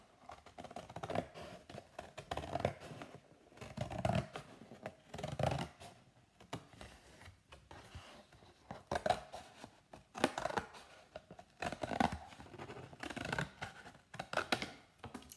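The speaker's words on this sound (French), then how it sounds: "As-tu déjà porté attention au son du ciseau?" Crisp snipping and slicing of scissors through paper in repeated short strokes, close up, with brief pauses between cuts.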